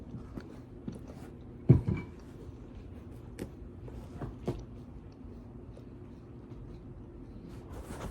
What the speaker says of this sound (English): Quite the crunch though.